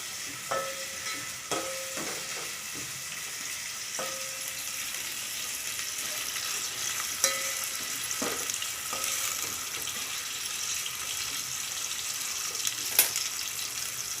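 Onion frying in a pan for masala rice, a steady broad sizzle running throughout, punctuated by occasional sharp clinks and scrapes of a utensil against the pan, with no talking.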